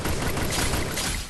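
Video game gunfire in a ranked solo-versus-squad shooter match, a loud, dense burst of rapid shots filling the whole moment with no talking over it.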